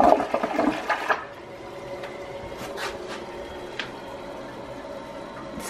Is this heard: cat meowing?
no